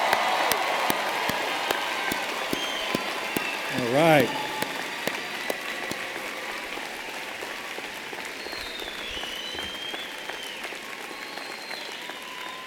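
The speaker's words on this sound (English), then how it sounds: "Can we have one more round of applause for the graduates?" A pharmacy college commencement audience applauds the graduates in a steady, dense wash of clapping that runs throughout, with a voice speaking briefly near the start and some cheering mixed in.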